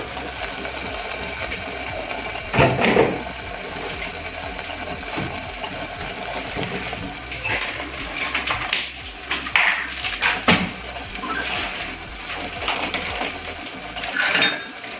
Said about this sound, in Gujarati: આપણે ગ્રેવીને વચ્ચે વચ્ચે થોડી ચલાવીશું.